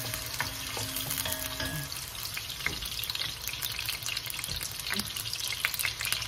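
Garlic, a whole head of it, sautés in a pan for miso sinigang, giving a steady hissing sizzle with light stirring scrapes and a few clinks throughout.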